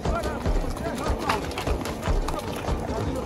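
Horse hooves pound in a rapid gallop during a wild kokpar game on a mountain pasture, with people talking over the busy, close rhythmic thudding.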